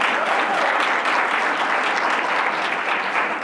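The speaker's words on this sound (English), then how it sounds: "Let's give her a round of applause." An audience at a Rochester Board of Education budget hearing applauds, a steady, dense clapping that fills the room without a break and carries no voices above it.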